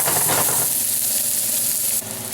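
Onions and garlic fry in olive oil in a pan, giving a loud, steady, close sizzle that drops slightly in level near the end.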